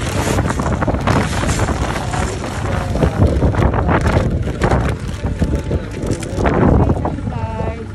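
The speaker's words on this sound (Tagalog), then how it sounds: "Ang lakas ng hangin." Strong wind buffeting a microphone outdoors in Japan, a loud, continuous low rumble with gusts, while a person talks over it.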